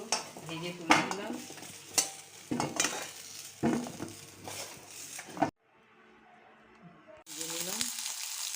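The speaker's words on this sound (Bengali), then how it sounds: "এবার মাছগুলো ভেজে তুলে দিলাম।" Rohu fish pieces fry in a pan with a steady sizzle and repeated scraping stir strokes. The sound cuts to near silence for a moment, then the loud sizzle resumes.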